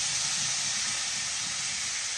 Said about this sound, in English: And now I'm going to deglaze it with 2 things